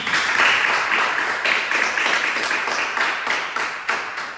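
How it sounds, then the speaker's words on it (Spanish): A church congregation applauds in a dense, fairly loud burst of clapping that rises early and then eases off over a few seconds. "¿Le puedo dar un aplauso a Jesucristo?"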